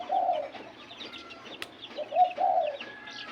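A zebra dove (bato-bato) breeder gives soft cooing calls: a short coo near the start and a pair of coos near the end, fairly faint over quiet background noise.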